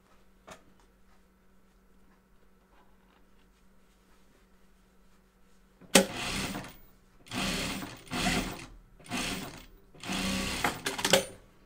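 A sewing machine stitches the short sides of fabric face masks in four quick bursts of rapid mechanical chatter with short pauses, after several seconds of near-silence with a faint click.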